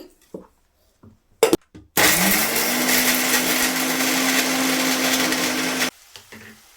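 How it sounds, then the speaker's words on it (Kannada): A kitchen mixer grinder whirs loudly and steadily for about four seconds, grinding spice masala with turmeric for a bitter gourd palya, preceded by a few sharp clicks and taps and then cutting off abruptly. "ಇವಾಗ ಇದು ಗ್ರೈಂಡ್ ಮಾಡ್ತೀನಿ"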